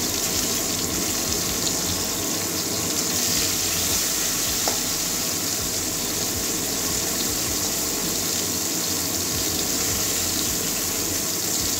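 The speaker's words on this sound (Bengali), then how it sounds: "তেল গরম হয়ে গেছে, আগে উচ্ছেগুলোই ভেজে নেব" Bitter gourd fries in hot oil with a loud, continuous sizzle that stays even and close from start to finish, with no voices.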